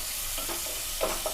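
Spice paste sizzles and gets stirred in a pan, a constant fizzing hiss broken by a couple of soft scraping strokes, close and moderately loud.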